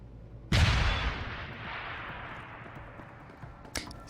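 An explosion in the video game Deus Ex: Human Revolution goes off with a sudden loud blast that rumbles and decays over a few seconds, followed by a faint sharp crack near the end.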